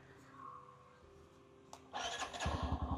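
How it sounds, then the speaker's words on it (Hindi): After a quiet idle hum and a click, a 125cc motorcycle engine cranks and fires up, settling into a loud, throbbing idle close by. "आइए मोटरसाइकिल को स्टार्ट कर लेते हैं"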